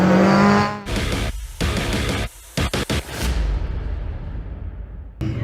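Racing cars on a green flag lap at Thruxton circuit, loud engine noise in bursts with abrupt cut-offs and gaps, heard close, then fading into a hiss before a final burst.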